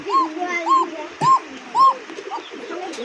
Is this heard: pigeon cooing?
yes